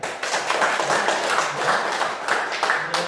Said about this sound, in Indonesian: Sebelum nanti presentasi, ya, tepuk tangan kita nih.